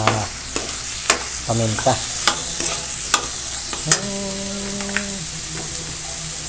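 Chicken thighs fry in their own fat in a pan while a utensil stirs them, a steady sizzle broken by repeated sharp scraping knocks against the pan, with a brief spoken word and an electronic beep partway through.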